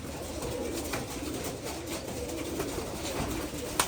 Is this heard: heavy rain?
no